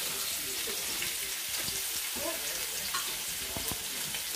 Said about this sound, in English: we're gonna add the garlic first. Okay, so here I'm just gonna mix it